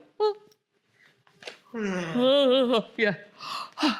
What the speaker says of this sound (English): Even if it's a false yawn.